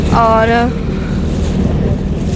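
A boat moves across sea water at night off Kemari, giving a loud, steady rush of water and wind with a voice talking briefly over it near the start.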